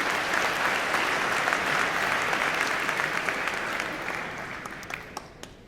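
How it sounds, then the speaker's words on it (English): An audience at a school speech night applauds warmly in a large hall. The clapping is dense and sustained, then thins into scattered claps toward the end. "Let's give her a warm round of applause."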